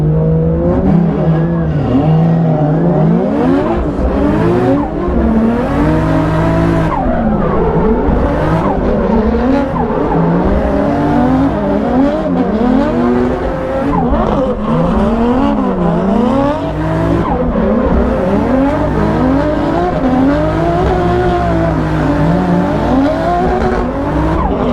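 A BMW E36 with a 1.5JZ engine drifts in competition, its loud engine revving up and down in repeated swells alongside squealing tires, with another car running close by.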